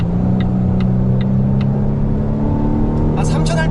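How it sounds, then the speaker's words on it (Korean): A Volvo V60 Cross Country in dynamic mode drones steadily from inside the cabin, with a low synthetic virtual exhaust hum and a few light clicks while a voice talks over it. "아주 작게나마 가상의 배기음을 좀 들려주긴 합니다"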